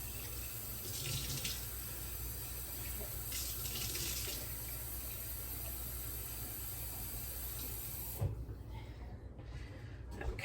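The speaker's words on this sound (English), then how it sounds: "I'm just adding a little bit of water" Tap water runs steadily into a soup pot holding chicken noodle soup mix, a continuous hiss and splash filling most of the stretch before cutting off near the end, with a few faint kitchen clanks.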